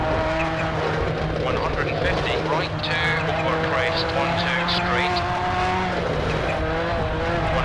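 A rally car in the video game WRC II Extreme on a Swedish stage, with a steady, loud engine drone and road noise holding at a constant pitch throughout.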